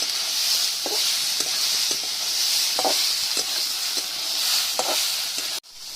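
Potatoes and cauliflower fry in a pan with a constant hiss while a spatula scrapes through them in regular strokes about once a second, close and clear, before the sound cuts off abruptly.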